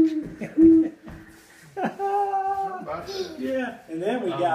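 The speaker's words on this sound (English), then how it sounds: "the little teeny owl" A small owl call played from a nature center touchscreen gives short hoots and warbling tones. People talk over and between the calls.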